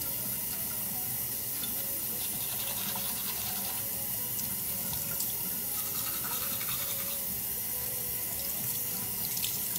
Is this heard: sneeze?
no